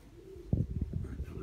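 Pigeon cooing in a loft where tumbler and roller pigeons are trained, a short burst of low, throaty pulsing coos close by and moderately loud over a faint background hum.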